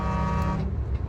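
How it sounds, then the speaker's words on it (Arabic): A car horn blares in a sustained honk for about half a second amid road traffic, then fades into a low rumble of passing vehicles. "دق له هورين"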